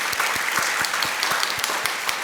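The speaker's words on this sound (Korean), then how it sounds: "박수로 한번." A church congregation gathered for worship claps together, producing a dense, lively patter of applause with rapid, overlapping claps that stays fairly even from start to finish.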